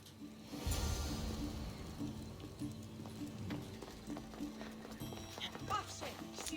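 A horse gallops in the Assassin's Creed video game, a steady run of hoofbeats under game background sound, with a whinny-like tone partway and some faint voices.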